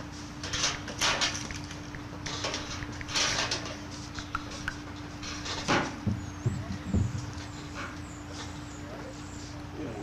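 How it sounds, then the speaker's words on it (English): A metal trash can lid slammed during a pro wrestling match: a few sharp, clattering bangs and low thuds midway through, under constant commentary and crowd noise. "Slam to the trash can lid."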